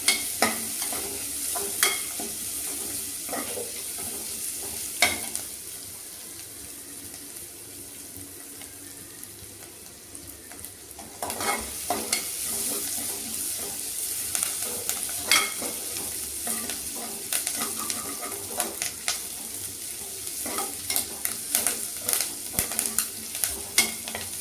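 Curry leaves and asafoetida sautéing in hot oil, a continuous close sizzle with repeated clattering stirs of a spoon against the pan, quieter for a stretch midway before the scraping picks up again.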